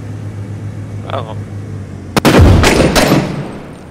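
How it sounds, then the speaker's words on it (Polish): Gunfire in the video game Six Days in Fallujah: after a quieter stretch with a faint voice, a sharp shot cracks out, followed by a loud cluster of rapid reports with echoing tails. "Dwa strzały, za dwa strzały dostał w łeb."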